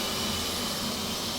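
An F/A-18C jet engine spools up in a flight simulator, a loud, steady whine and roar that stays constant and close, with no voices.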